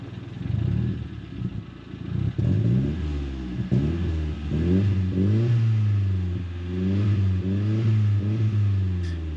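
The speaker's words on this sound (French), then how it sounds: "je vais te montrer ce qui se passe quand j'accélère." A Nissan Silvia S12 engine revs repeatedly under acceleration, loud and close, with rising and falling pitch sweeps and a rough, clattering rumble underneath throughout.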